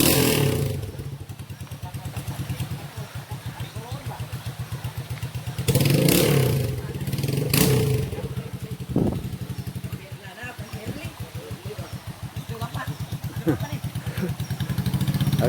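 A motorcycle engine drones steadily near a waterfall path, with clattering bumps and a few louder thumps, while people talk over it throughout.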